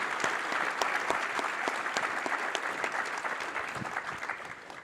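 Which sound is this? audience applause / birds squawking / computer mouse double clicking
audience applause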